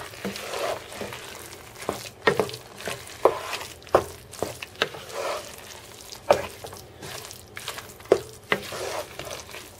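A lentil and walnut burger mixture is stirred in a hot pan, with repeated scraping strokes and clacks of a utensil over a steady sizzle, close and fairly loud.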